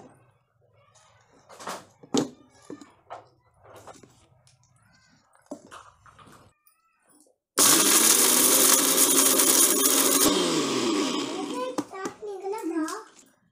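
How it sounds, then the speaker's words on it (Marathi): A mixer grinder whirs loudly for several seconds as it grinds whole garam masala spices, including chillies and cardamom, into powder at home, preceded by scattered voices and small kitchen clatter. "चक्की आता हे मिक्सरला वाटणार आहे मी."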